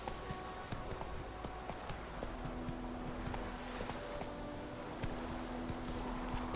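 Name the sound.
horse galloping in video game The Witcher 3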